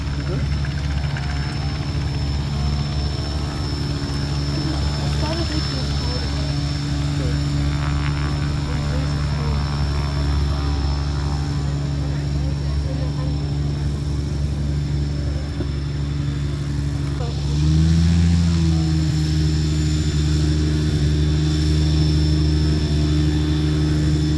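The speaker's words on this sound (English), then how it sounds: "On the roll, it's the astonishing Rich Goodwin with his jet pits, and just look at this" Jet-assisted Pitts S-25 aerobatic biplane flown in an air show display at Duxford, a loud continuous engine drone with strong steady harmonics and a pitch shift late on as it passes, mixed with faint commentary.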